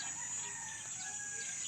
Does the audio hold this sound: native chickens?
yes